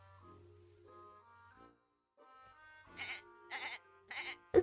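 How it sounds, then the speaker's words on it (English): Goat bleating in the Twisted Wonderland video game: a few short, raspy bleats rising out of soft background music, fairly close and clear, with no talk over them. "Loving the goat noises."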